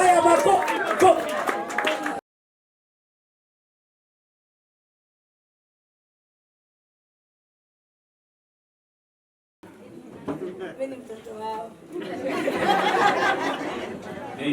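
Guests clap at a Ruracio ceremony amid crowd chatter, with a burst of clapping at the start and a longer, denser round near the end, separated by several seconds of silence.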